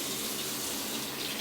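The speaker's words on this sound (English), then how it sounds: "What I'm going to do now is just rinse off my hands" Warm tap water runs steadily into a sink while hands are rinsed, a close, even splashing rush without breaks.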